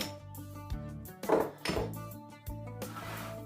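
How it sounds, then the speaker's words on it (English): Seasoned potatoes shaken in a colander, giving a few quick rattling, clattering bursts with short pauses between them, close and fairly quiet. "I always season my potatoes in my colander. And then I shake them up."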